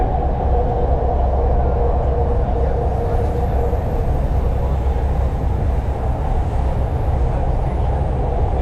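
A Delhi Metro train rumbles along loud and close with a constant deep roar and rail hum that holds steady the whole time, with no clear voices over it.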